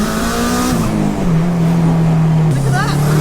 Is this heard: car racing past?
yes